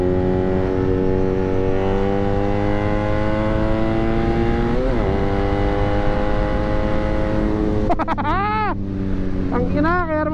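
A BMW R nineT motorcycle engine drones steadily while riding, a loud, close, humming note that climbs and drops in pitch through gear changes, with a voice speaking briefly toward the end.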